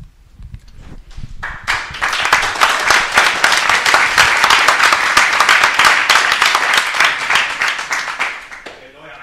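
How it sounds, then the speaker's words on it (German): Loud, sustained audience applause at a panel discussion on Berlin's new housing law, dense clapping building quickly after a few scattered claps and holding steady for several seconds before thinning out. "ich weiß nicht genau, wieso Sie jetzt klatschen"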